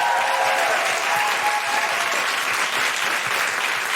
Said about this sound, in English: Can I have a huge round of applause for everyone here at Gilder Balloon